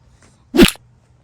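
A single short pop from a silicone pop-it fidget toy, sharp and close, standing alone against quiet.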